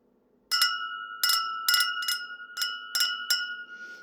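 Vintage glass goblets from the Popasna glassworks clinked together about seven times, each strike a bright, close ring that hangs in the air before the next; no voices.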